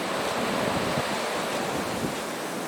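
Wind rushes through treetops during a snowstorm, a steady, full roar of broadband noise that holds at an even level throughout, like distant surf, with no voices.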